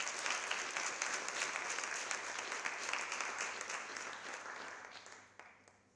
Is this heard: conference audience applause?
yes